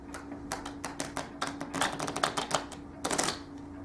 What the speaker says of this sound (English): When you shuffle, sometimes 2 or 3 cards will come down, and 2 or 3 more, or 1 or 2.